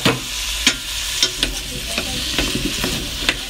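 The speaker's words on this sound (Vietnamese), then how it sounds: "con tiếp theo là con sẽ cho cà chua vào để xào cùng luôn ạ" Tomatoes are stir-fried in a pan, giving a steady sizzle broken by repeated sharp clinks and scrapes of the stirring utensil at an uneven rhythm.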